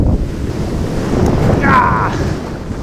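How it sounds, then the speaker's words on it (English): Hurricane-driven surf crashes and rumbles continuously around a pier, loud and close, with heavy wind buffeting the microphone throughout. "gonna catch some hurricane waves"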